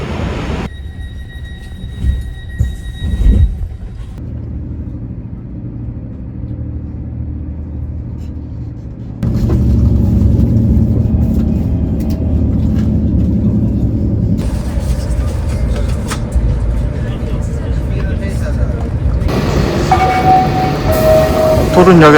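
Train rumbling at a Polish railway station platform, a low steady rolling drone that swells louder midway, with a passing high squeal near the end and faint voices in the background.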